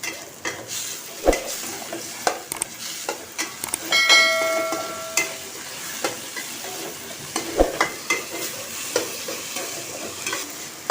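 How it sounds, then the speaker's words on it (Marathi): Dil pasand gourd sautéed in a pan with spices, a soft continuous sizzle under repeated spatula scrapes and taps, with one brief ringing metallic clink from the pan partway through. "आता आपण ह्याच्यामध्ये हे दिलपसंद घालून घेणार आहोत आणि परत छान परतून घेऊया."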